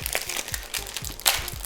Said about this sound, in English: Let's rip into it.